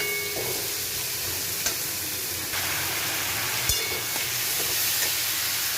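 Vegetables and potatoes with cumin powder sizzle in hot oil in a pan, a constant loud frying hiss broken by a few clinks and scrapes of a stirring spoon.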